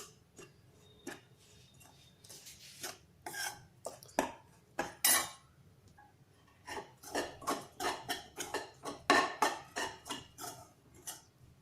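Roasted chickpeas being stirred in a pan over medium heat, producing rapid rattling, ticking clatters of a spoon against metal in quick irregular bursts, close and fairly loud, with no talking.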